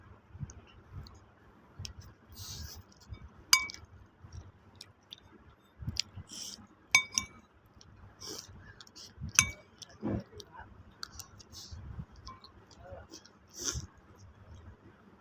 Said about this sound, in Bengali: এখানে কিন্তু আমি চামচ দিয়ে খাচ্ছি।